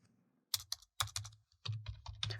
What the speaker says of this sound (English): type our command, type our wmic command